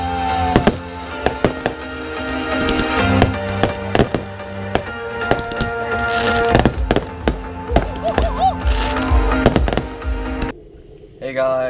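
Fireworks at a summer camp campfire event pop and crack in a rapid, irregular series of loud sharp bursts, with crowd voices and chatter underneath before the noise suddenly cuts to quiet.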